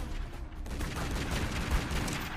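Rapid assault rifle fire from the video game Tomb Raider: Legend, a steady dense burst of gunshots running the whole time at a constant loud level with no voices.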